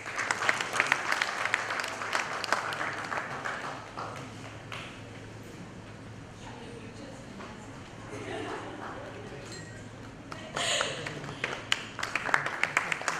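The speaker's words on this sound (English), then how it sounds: "Round of applause." Audience applause at an evening PechaKucha presentation event, scattered clapping that rises at the start, thins out through the middle and swells again near the end, with talking mixed in underneath.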